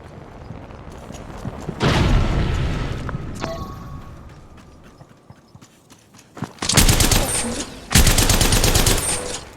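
Bursts of automatic gunfire in the battle royale shooter Apex Legends, one sustained volley early on and two loud, dense bursts near the end with quieter game noise between.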